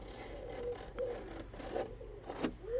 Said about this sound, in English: now I'll lightly score a line